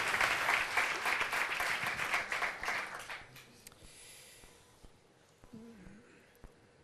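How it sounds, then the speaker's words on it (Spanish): Meetup audience applauds loudly for a few seconds before the clapping thins and dies away, leaving quiet room noise and a faint murmur near the end. "Pues un aplauso para Bakir"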